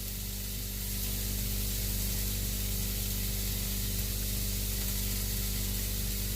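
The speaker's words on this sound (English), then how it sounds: "I'm just going to get my tofu and place it in the fry pan." Tofu sizzles steadily in a hot frying pan with orange sauce, a continuous close hiss that holds at an even level throughout with no talking.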